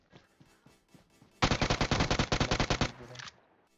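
Automatic gunfire in PUBG Mobile, a sustained burst of about fifteen rapid, loud shots after a few scattered quieter pops, ending abruptly.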